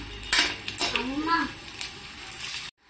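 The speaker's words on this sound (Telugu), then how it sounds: "పోపులు చిటపట్లు ఆడుతున్నాయి" Tempering spices with green and dried red chillies crackle and spatter in hot oil for horse gram soup, with a steady sizzling hiss, along with clinking of a utensil against the pan and a brief voice.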